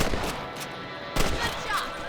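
Rifle shots at rabbits in the Red Dead Redemption video game, two sharp reports spaced about a second apart over a busy outdoor backdrop with faint voices.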